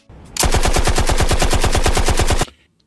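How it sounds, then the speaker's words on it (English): Machine gun fire used as a sound effect, one loud unbroken burst of about two seconds made of rapid evenly spaced shots, heard alone with no talk. "Gunshots!"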